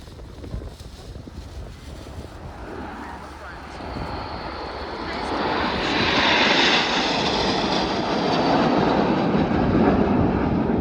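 Red Arrows jets flying in Concorde formation at an air show, a broad, steady jet roar that swells louder as the formation passes overhead.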